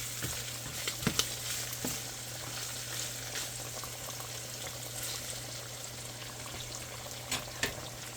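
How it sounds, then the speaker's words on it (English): Italian sausage soup stirred in a pot, a faint steady simmer and bubbling with occasional soft clinks and scrapes of the spoon, no talking. "I'm stirring my Italian sausage."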